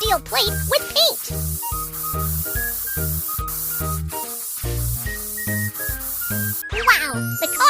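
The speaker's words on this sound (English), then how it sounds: "Then spray the steel plate with paint." Cartoon spray paint hisses onto a steel plate in short repeated bursts, layered over bright jingly music and sound effects.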